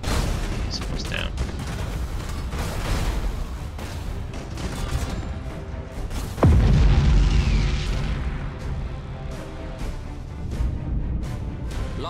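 A ship blows apart in the space battle game Battlefleet Gothic Armada 2: a deep, loud boom breaks out midway through a dense stream of weapons fire, with voices talking throughout.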